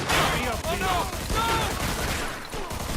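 Dense, loud gunfire in the video game Mafia II: Definitive Edition rattles through the clip, with a voice talking over the shooting.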